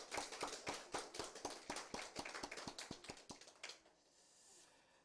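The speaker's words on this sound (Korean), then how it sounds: "우리 수고한 우리 장로님들과 우리 랩런트들에게 우리 감사의 격려의 박수를 우리" Church congregation clapping on Christmas Day to thank the elders who went carol singing before dawn: sharp, evenly spaced claps in a steady rhythm, close and fairly loud. They stop abruptly after about four seconds, leaving faint room tone.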